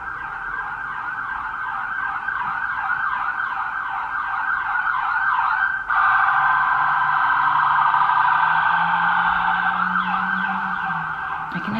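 An emergency vehicle siren wails on a city street, a loud steady rising and falling tone that shifts to a brighter pattern partway through, with traffic rumble and a passing engine underneath, no voices heard.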